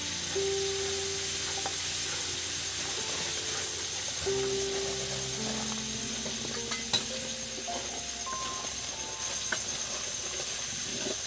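Garlic frying in hot spices for Kashmiri aloo dum in a village kitchen, a steady, fairly close hiss and sizzle that runs throughout with faint clinks of a utensil.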